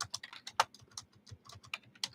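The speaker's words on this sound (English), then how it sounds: "You guys can see me typing." Rapid, uneven keystrokes on a computer keyboard during a live online session, close and clear, with bursts and short pauses and no talking over them.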